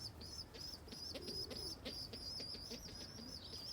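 Pigeon chicks and adult pigeons in a coop give soft repeated chirps and coos, with occasional wing flutters, fairly faint against a low background hum.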